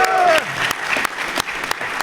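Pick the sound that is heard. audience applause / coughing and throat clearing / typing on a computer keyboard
audience applause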